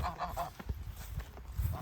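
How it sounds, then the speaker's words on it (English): Geese honk in a Vermont garden, several short nasal calls in quick bursts at moderate distance, fairly faint with outdoor background noise. "Say good morning to the geese."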